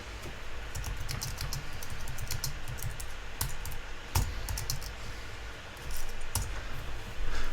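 Fingers type on a Mac computer keyboard, a quick, uneven run of close key clicks with a few sharper taps, steady over a low room hum.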